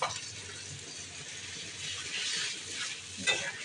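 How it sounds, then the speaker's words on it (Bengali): Chopped onions frying in oil in a pan, a steady close sizzle with occasional stirring scrapes and a brief louder clatter near the end, no voices. "পেঁয়াজ কাটা তেলে দিয়ে নিচ্ছি"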